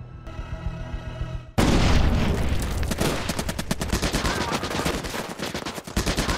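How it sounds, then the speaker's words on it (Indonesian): A burst of rapid gunfire in a film erupts after a brief tonal intro, soldiers' shots rattling in dense volleys with heavy booms, continuing steadily to the end. "terjadi tembakan membabi buta"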